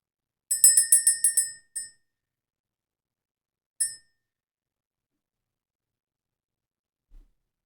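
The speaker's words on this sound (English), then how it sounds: "Let's ring the bell." A small bell struck in a rapid cluster of about eight bright rings, followed by two more single strikes with pauses between, clear and close in an otherwise silent room.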